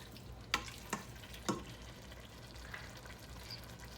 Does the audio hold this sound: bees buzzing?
no